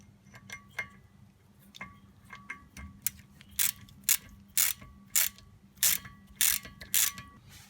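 A ratchet with a T30 Torx bit works at a rotor retaining screw on a Chevy Cruze rear brake, giving a series of close, crisp clicking bursts that grow louder and more regular.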